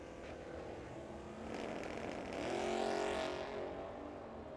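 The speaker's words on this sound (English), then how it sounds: "Look at this GTO of Andy Kadar working hard, trying to pull up alongside Beth Crane." GTO and Chevelle drag race cars run side by side at Firebird Motorsports Park in a teams race. Their engines roar as they pass, building to a loud peak and then fading off into the distance.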